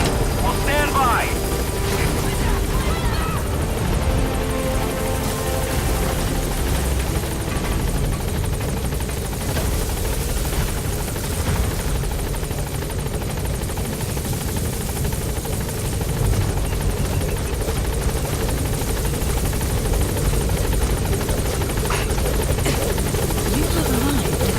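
Pequod, the helicopter in Metal Gear Solid 5, hovers at the landing zone, its rotor thumping as a loud continuous drone with buzzing engine whine, and voices speak over it intermittently.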